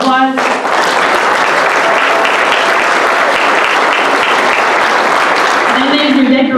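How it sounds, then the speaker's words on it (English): Sustained, dense applause from an audience at a 4-H annual achievement night, loud and steady for several seconds with a brief voice at the start and end. "let's give all these people a round of applause"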